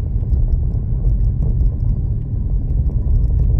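Low, steady engine rumble from inside a car, with the motor droning as the vehicle slows under engine braking.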